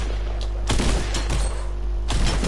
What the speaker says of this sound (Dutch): je wordt naar beneden geschoten!